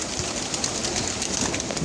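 Flock of 86 racing pigeons at feeding time in a Polish loft, a steady bed of soft cooing and wing rustle filling the space without a break, close and moderately loud, with no talk.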